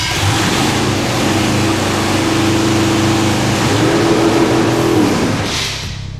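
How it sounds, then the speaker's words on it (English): A custom-built tank's engine runs loudly and steadily at close range, a rough low drone with a slight change in pitch partway through that fades a little at the end. "Engine start in 3, 2, 1."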